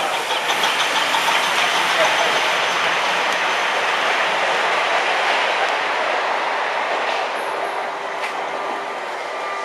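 A steam locomotive moving around the yard at a Bluebell Railway anniversary gala, a steady broad rumble and hiss close by with a faint high squeal near the end, under occasional bystander chatter.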